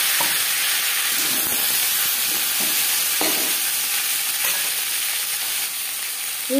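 Taro frying in mustard oil in a wok, a steady bright sizzle throughout with occasional soft stirring scrapes, close and fairly loud with no talk.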